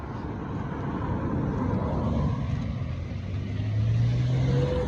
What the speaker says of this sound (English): That car just went in the other lane entirely.